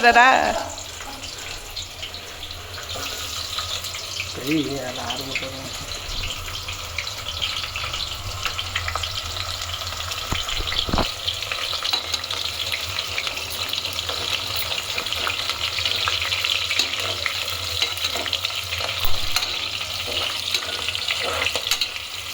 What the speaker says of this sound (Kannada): ಅದು ಸ್ವಲ್ಪ ಫ್ರೈ ಆಗಲಿ ಹೇಳಿ